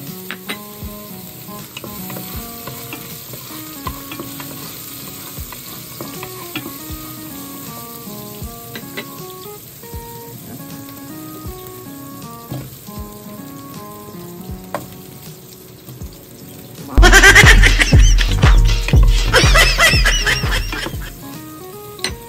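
Beef cubes and potatoes sauté in a pan until brown, at first a quiet, light sizzle with faint clinks, then a sudden loud burst of hissing and stirring near the end.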